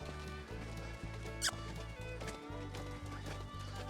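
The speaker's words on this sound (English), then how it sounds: "I want him to travel at a nice slow lope without running off." A horse travels at a slow, quiet lope during colt-starting training, its hoofbeats landing in a steady rhythm of soft, regular thuds about twice a second over a constant background.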